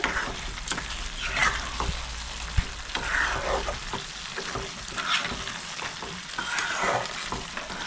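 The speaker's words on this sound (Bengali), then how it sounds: "ঘিটা দিয়েও মিক্স করে নিচ্ছি ভালো করে।" Shankar (stingray) fish curry stirred in a pan after a spoonful of ghee goes in, with a steady sizzle and repeated scraping strokes of the spoon running close and continuous throughout.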